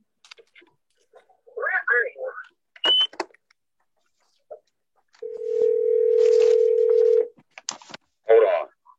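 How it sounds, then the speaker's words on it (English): Speakerphone dial tone sounding as a call is placed, a steady tone holding for about two seconds, bracketed by brief keypad beeps and snippets of voices before and after. "I'm going to call him on my speakerphone."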